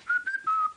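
A person whistles a short tune, clear and close, with a few sustained notes that dip and rise.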